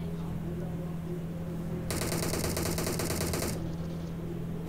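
A sustained burst of rapid automatic gunfire from a VSS or UMP in PUBG cuts in after a low background hum, lasts about a second and a half, then stops abruptly.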